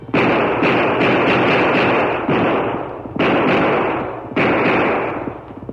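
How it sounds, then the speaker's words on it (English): Revolver shots fired into the air at night near a border camp, four sharp loud reports spaced about a second apart, each followed by a decaying echoing boom, heard alone. "12 shots rang out through the silent night."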